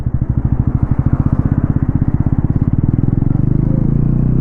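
A 349cc Bajaj Pulsar NS400Z 2026 engine, loud and close, pulsing in a rapid even rhythm as it revs and climbs, the firing pulses speeding up toward a steady high drone.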